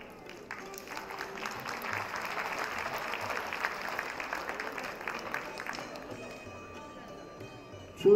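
An audience at an ICBF Day 2024 event applauds in a dense wash of clapping that holds for several seconds before fading away, heard at moderate distance.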